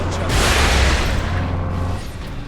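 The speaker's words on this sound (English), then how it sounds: "Security protocol. Missile launcher!" A missile launcher fires in the Warhammer 40k: Space Marine video game, a deep continuous boom and rumbling roar that holds loud through the whole stretch with no speech.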